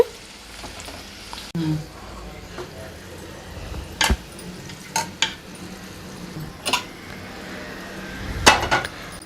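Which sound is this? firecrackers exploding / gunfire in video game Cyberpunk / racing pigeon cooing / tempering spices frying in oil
tempering spices frying in oil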